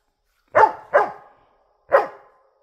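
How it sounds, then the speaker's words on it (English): Three sharp, close barks from a dog aimed at squirrels, two quick ones followed by a single bark after a short pause, each clear and alone. "What's he barking at, Rusty?"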